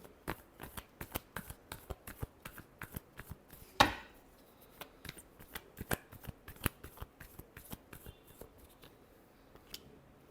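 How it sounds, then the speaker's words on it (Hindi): Tarot cards being shuffled by hand, a quick run of crisp papery riffles and flicks over about ten seconds, with one sharper, louder snap early on. No talk. "Last shuffle."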